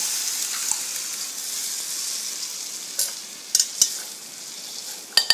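Cooked, mashed dal poured into a hot oil tempering for dal tadka sizzles and hisses steadily, with a few sharp clanks of the stirring spoon against the pan near the end.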